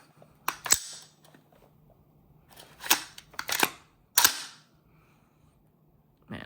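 The charging handle of an HK416A5 airsoft rifle is worked several times, giving sharp metallic clacks and sliding scrapes in short separate bursts, close and fairly loud against a quiet background.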